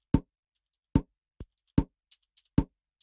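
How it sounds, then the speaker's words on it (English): A mouth pop recorded for use as a footstep layer: five short, dry, close pops at a roughly even pace with small soft clicks between them, and no other sound. "So I added a little mouth pop"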